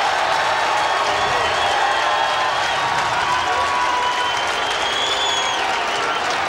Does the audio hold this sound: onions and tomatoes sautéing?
no